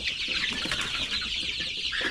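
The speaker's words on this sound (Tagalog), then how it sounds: "Ay mga sisiw naman natin." A brood of young chicks at a farm making dense, continuous high peeping and cheeping, close and moderately loud, with many overlapping calls and no voices.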